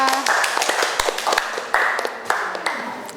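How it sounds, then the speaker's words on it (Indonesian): Schoolchildren in a classroom clapping for classmates who presented a math group lesson, a few uneven, close claps and taps with a voice briefly audible underneath. "Ya kasih tepuk tangan dulu buat temannya."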